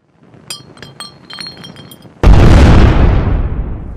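A thrown Molotov cocktail smashes with a crisp glass-breaking clink, preceded by a few light tinkling clicks, then erupts into a loud, roaring whoosh of fire that slowly fades; no talk.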